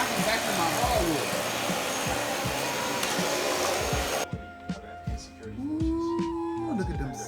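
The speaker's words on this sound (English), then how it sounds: "Charlie, I can vacuum my hardwood." A Dyson vacuum cleaner runs on a hardwood floor with a loud, steady motor whine, then drops to a quieter hum as the pitch shifts, with a person talking over it.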